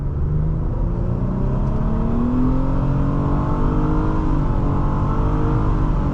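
A 2016 Nissan Altima 3.5 SL accelerates hard from a standing launch, its engine note rising loudly and steadily through the revs in a continuous rumbling roar heard from inside the car, with no talking.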